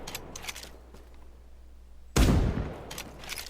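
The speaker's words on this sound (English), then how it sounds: "Hardcore, powerful sounding guns" Gunfire from an upcoming mobile first-person shooter game: a sudden, loud, close burst of heavy gun blasts rings out and decays, with softer scattered shots and clatter before and after.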